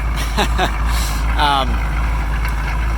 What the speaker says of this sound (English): this old classic non-turbo diesel, and the way they sound